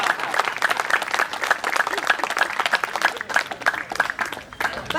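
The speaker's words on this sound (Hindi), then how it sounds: "जोर से लगाओ ताली।" Loud rhythmic clapping from an audience at a spiritual cultural program, many hands striking in a fast, fairly regular beat, close and continuous for five seconds.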